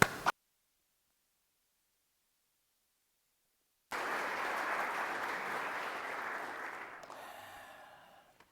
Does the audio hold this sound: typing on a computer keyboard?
no